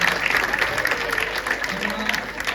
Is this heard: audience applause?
yes